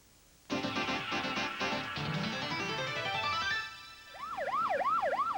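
An ambulance siren on a Brazilian road, loud and close, first in long held wails and then switching to a fast, rising and falling yelp, heard alone without speech.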